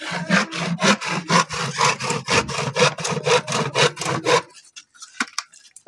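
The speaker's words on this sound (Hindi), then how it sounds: "पटा काटुच कने" A wooden plank being hand sawn at a construction site, steady rapid back-and-forth rasping strokes close up for several seconds, then stopping into faint scattered noises.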